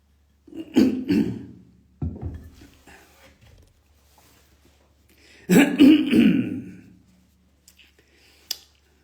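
A man clears his throat roughly a couple of times, with short gravelly bursts separated by pauses, close to the listener.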